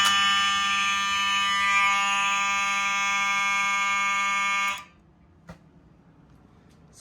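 A fire alarm system under test sounds as a loud, steady electronic tone for nearly five seconds, then cuts off abruptly, leaving a quiet room with a couple of faint clicks.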